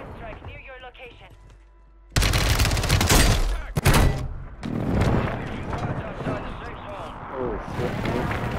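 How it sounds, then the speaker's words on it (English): Heavy explosions from an airstrike in Call of Duty Warzone: a dense, loud broadband blast starts about two seconds in and rumbles on, with a second sharp hit soon after. Game chatter and voices run underneath. "Hostile airstrike near your location."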